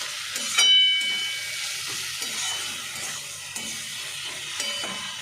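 A spoon stirs Maggi noodles with tomato sauce and fried egg in a pan, giving soft scraping strokes over a light sizzle, with one sharp metallic clink near the start.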